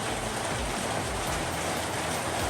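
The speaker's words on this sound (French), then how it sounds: "Désolé, la famille, il y a la pluie." Steady rain falls outdoors, a dense, even hiss of drops on surfaces that holds constant at moderate loudness throughout.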